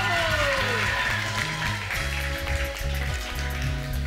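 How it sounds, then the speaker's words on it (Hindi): A studio audience on a television talk show applauds, a dense, steady patter of clapping hands under a sustained musical tone and a gliding voice, moderately loud throughout. "अच्छा, तालियों में मजा नहीं है?"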